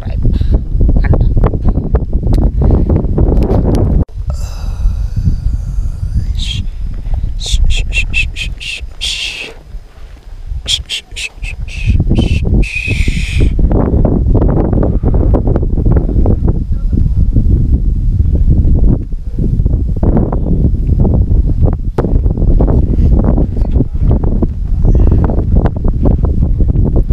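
Strong wind buffets the microphone on a hilltop summit, a loud continuous low roar with gusty surges that eases briefly midway before returning at full force.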